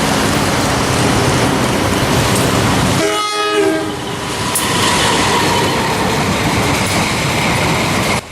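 A vintage CC201 diesel locomotive runs past on an Indonesian railway, a loud continuous roar of engine and rolling wheels with a brief horn blast partway through, close by.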